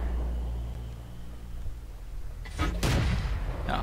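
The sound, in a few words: Panzer IV tank cannon shots in World of Tanks video game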